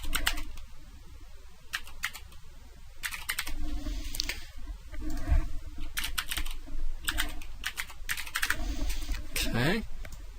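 Quick bursts of typing on a computer keyboard while filling in a sign-up form, clusters of clicky keystrokes separated by short pauses, close and clear.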